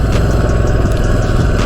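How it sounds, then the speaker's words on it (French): A Yamaha XT 400 Paris Dakar motorcycle engine runs steadily up close, a loud, even throbbing rumble with a slight rattling clatter throughout. "avec cette moto qui roule parfaitement,"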